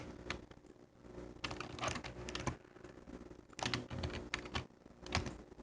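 Keys on a computer keyboard, including Ctrl and Shift, are pressed while working in Maya 3D software: clustered clicky taps come in several quick bursts at close range, with no talking.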